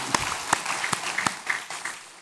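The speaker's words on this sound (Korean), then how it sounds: "박수를 하나님께 드리겠습니다." Congregation at a Sunday worship service in a Daegu church gives applause to God; sparse, separate hand claps in a loose rhythm, close and fairly quiet, lasting about two seconds.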